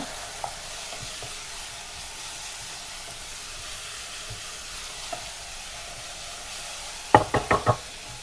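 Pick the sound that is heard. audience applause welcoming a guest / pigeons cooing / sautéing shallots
sautéing shallots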